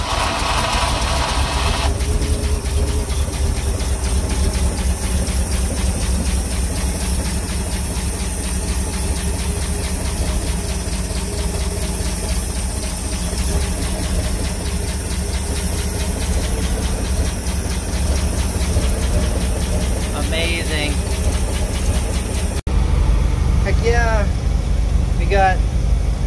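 1976 International Cargostar truck engine idling steadily, a continuous low rumble with hiss that runs throughout, while a person talks over it near the end.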